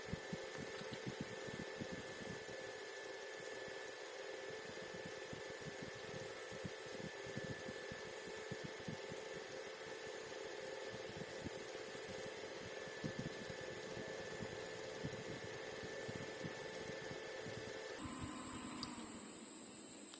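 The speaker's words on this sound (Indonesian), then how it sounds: "kita coba dinginkan menggunakan kipas ini ya" A small cooling fan on an automatic KSD9700 thermostat fan circuit runs steadily with a constant whirring hum and faint ticking texture, its tone shifting abruptly near the end as the circuit switches.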